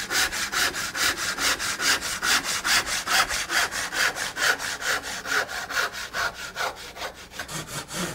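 Hand saw cutting a piece of wood in half at a cabinetmaker's bench, a steady run of about thirty even rasping strokes, close and clear with no talk.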